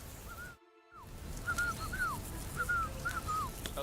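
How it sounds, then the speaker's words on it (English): A character whistling a tune in the medieval game Kingdom Come: Deliverance 2, short rising and falling whistled phrases repeating softly over a low outdoor background, with a brief silent gap early on. "Your whistling is getting on my fucking nerves the whole way."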